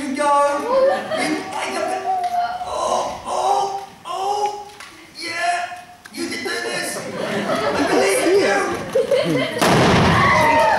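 Ethanol fumes ignite in a science demonstration with a liver inside, giving a sudden loud whooshing blast near the end after a stretch of excited talking and chuckling from onlookers.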